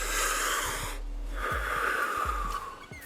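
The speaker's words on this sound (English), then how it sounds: "Breathing in from the stomach, opening the chest," Deep breaths in a Wim Hof breathing exercise: a long, close, airy inhale, a brief pause, then a second strong wheezy breath, loud and alone with no talk.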